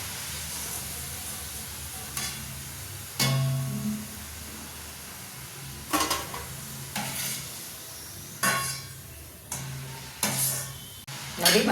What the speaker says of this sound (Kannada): ಮೀಡಿಯಮ್ ಉರಿಯಲ್ಲಿ ಕರಿತಾ ಇದ್ದೀನಿ ನಾನು